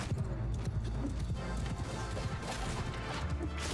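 Horse hooves clip-clop through a Mount & Blade II: Bannerlord battle, a dense rapid patter of hoofbeats mixed with clashing combat noise and constant background din, no voices.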